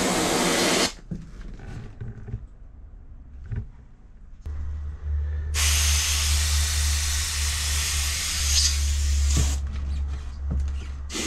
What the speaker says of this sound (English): we're gonna try to see if we can blast them out with our aerosol